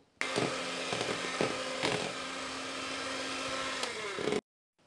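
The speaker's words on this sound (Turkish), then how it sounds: "2 yemek kaşığı nişastayı da ekleyip biraz daha çırpıyorum." An electric mixer steadily whirs as it whisks cake batter with oil, milk and starch, a continuous motor hum with occasional louder scrapes against the bowl, close and alone.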